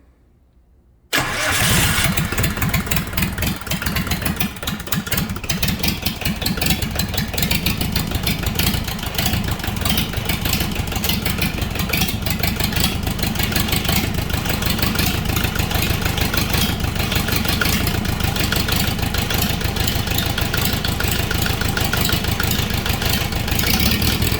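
A Kubota V1702 diesel engine cranks and catches after a brief moment, then runs loud and rough on uneven cylinders, a steady close clatter that keeps going to the end.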